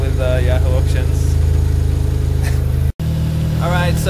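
A Mazda RX-7 FC3S rotary engine idles steadily at operating temperature after a Koyo radiator install, a loud continuous mid-pitched drone with a brief dropout near the end, and a voice talks over it.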